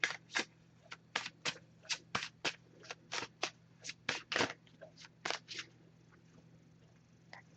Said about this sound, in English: I'm just going to give this a few shuffles.